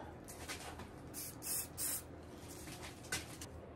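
Acetone accelerator spritzed from a spray bottle onto a big elm wood platter: a few short, close hissing bursts spaced over a few seconds, with one sharper puff near the end, over a quiet room.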